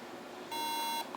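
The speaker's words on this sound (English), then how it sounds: "Okay, it's still beeping." A single steady electronic beep from a MacBook Pro laptop sounds for about half a second against a faint background hiss.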